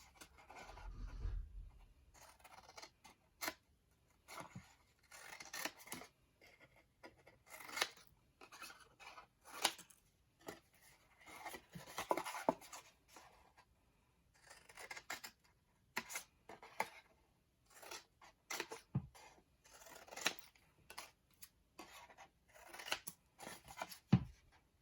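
Scissors trim triangles from the corners of a paper clamshell craft box, making quiet, close snips and crisp crunches scattered irregularly through a long stretch, with no voices.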